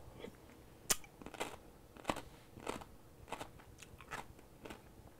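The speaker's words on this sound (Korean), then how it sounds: "자, 무를 한번 먹어보겠습니다." Month-old fermented radish water kimchi made with fermented salt is bitten and chewed up close, giving a quiet series of sharp, crisp crunches spaced irregularly, with no talking.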